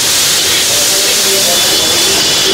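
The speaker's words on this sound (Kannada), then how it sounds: "ಫ್ರೈ ಆಗಿದ ನಂತರ 3 ಟೀ ಸ್ಪೂನು ಶುಂಠಿ ಬೆಳ್ಳುಳ್ಳಿ ಪೇಸ್ಟ್ ಹಾಕೊಂಡಿದ್ದಾರೆ" Ginger garlic paste, half ginger and half garlic, hits hot fried onions and gives a loud, steady, hissing sizzle that stays constant throughout with no pauses.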